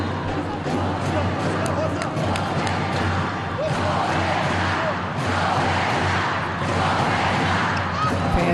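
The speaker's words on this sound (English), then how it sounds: "Fans cheering their setter Roberta as she serves." Fans at a Brazil versus Venezuela women's volleyball match cheer as the setter serves, a steady, loud roar of crowd noise and shouting that fills the arena without a break.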